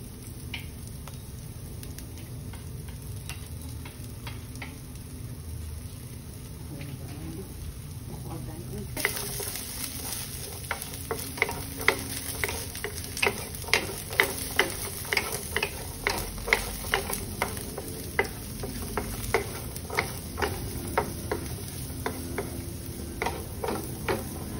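Carrots frying in a pan for ground beef fried rice: a steady sizzle, then a spatula scraping and stirring in quick, rhythmic clicks and scrapes that grow louder partway through and continue close up.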